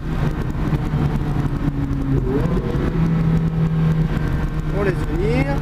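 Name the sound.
Ferrari accelerating out of a corner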